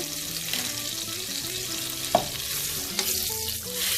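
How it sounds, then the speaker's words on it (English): Smart Balance butter melts in a stovetop skillet with a steady, bright sizzle, while faint tonal background music plays and a couple of sharp utensil taps mark the middle and end. "Now it is time for us to add some of our Smart Balance butter."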